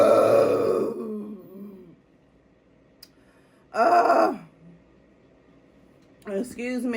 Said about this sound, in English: Y'all don't know how many times I burp.